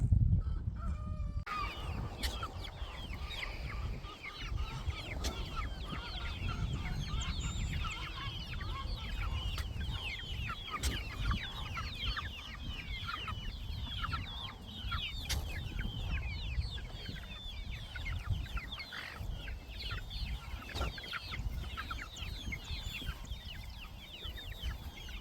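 Young chickens cluck and chirp continuously, many birds close by, a busy overlapping chatter with no talking.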